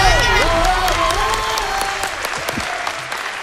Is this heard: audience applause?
yes